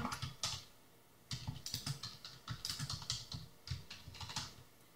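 Comment typed on a computer keyboard: quick, light key clicks in bursts with short pauses, close and fairly quiet, no voices.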